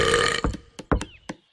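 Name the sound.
cartoon female character burping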